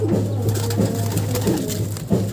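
Racing pigeons coo in a loft, low rolling calls repeating throughout at close range, with some brief background clatter.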